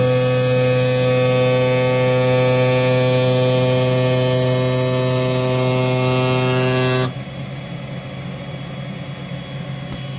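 Sparx skate sharpener with a figure skate adapter runs its dust filter, a loud steady tonal motor hum for about seven seconds that then cuts off, leaving a quieter lingering noise.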